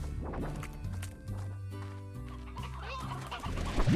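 Chickens clucking in the video game Slime Rancher, several birds making overlapping clucks and short calls in a steady, busy stream close by.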